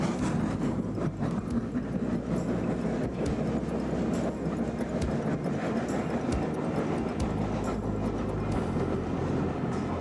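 Heritage railway locomotive number 24, an operating antique on a single-line railway, runs toward Tenterden with a loud, continuous rumble and steady rolling rattle of wheels throughout.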